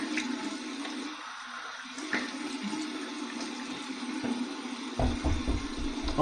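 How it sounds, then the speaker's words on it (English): Cold water runs steadily from a tap into a basin for a rinse, a continuous rushing flow with a few small splashes and no talk. "Here's my cold water rinse to close my pores."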